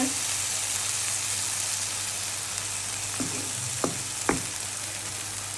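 Shrimp braises in spiced oil in a pan, with a constant loud sizzle broken late by a few sharp utensil clinks and stirring sounds.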